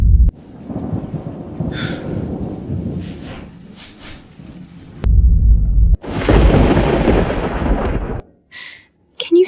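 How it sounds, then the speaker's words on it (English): Heavy thunder rumbles and cracks in long, loud bursts over steady rain, with abrupt booming peaks and brief quiet gaps between claps. "Lucian, I'm scared of thunder."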